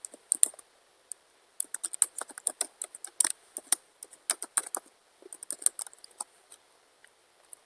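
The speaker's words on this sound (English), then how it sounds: "So I will type my email here." An email address typed on a computer keyboard: quick, uneven bursts of light plastic key clicks with short pauses between them, close and clear with no voices.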